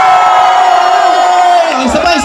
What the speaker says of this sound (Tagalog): Pagbilang ko tatlo, lahat sigaw ah.